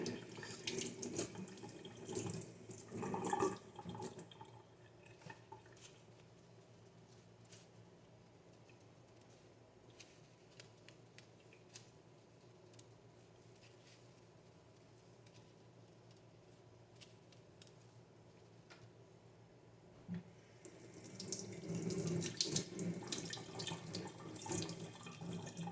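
Tap water runs steadily into a kitchen sink while a knife is rinsed, louder splashing at the start and again near the end with a quieter, even trickle in between.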